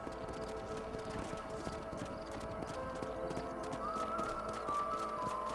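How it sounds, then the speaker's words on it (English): Horses galloping in the video game Red Dead Redemption, hooves clip-clopping in a fast continuous patter at moderate distance, with a faint tonal line emerging near the end. "Don't let those horses out of your sight."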